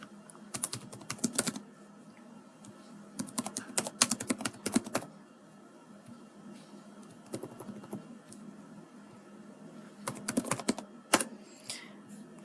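Home address typed on a computer keyboard, close, quiet key clicks in several quick bursts separated by pauses, with no speech.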